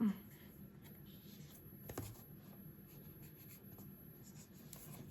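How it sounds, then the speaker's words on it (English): A bone folder rubs along paper edges to straighten them, making quiet scratchy strokes with a sharper scrape partway through, close and soft against a hushed room. "I just kind of take my bone folder and straighten them out"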